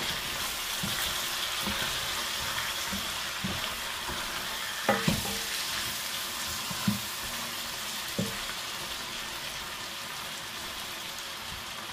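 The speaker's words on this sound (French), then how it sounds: "L'oignon, l'ail et le gingembre mélangés ensemble qui sont en train de revenir là." Onion, garlic and ginger fry steadily in a pan with a soft, even crackle throughout, broken by a few brief utensil clicks near the middle; no one speaks.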